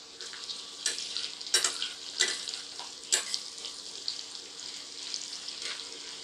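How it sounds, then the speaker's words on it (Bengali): Chopped capsicum frying in a pan for dry soya chilli, a soft continuous sizzle with occasional louder crackles and stirring scrapes, no talk. "দু মিনিট আমার এই ক্যাপসিকামটা ভাজা হয়ে গেছে।"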